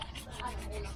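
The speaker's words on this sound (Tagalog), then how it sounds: "Kaya gagamitan din natin ng liha or sandpaper" Brief soft rhythmic rubbing of 1000-grit sandpaper scraping back and forth over a painted car wheel, close and fairly quiet.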